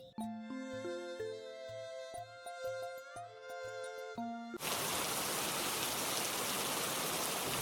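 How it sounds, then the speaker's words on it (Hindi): A short plucked musical tune in a cartoon gives way to a sudden, steady wash of heavy rain that hisses on without a break. "तभी रास्ते में ही बारिश होने लगती है।"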